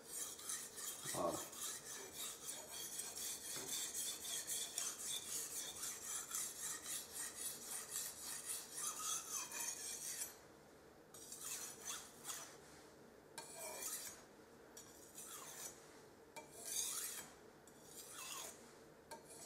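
A kitchen knife blade is drawn across a whetstone with almost no pressure, making a continuous gritty rasp that breaks into short separate strokes toward the end, close and fairly quiet.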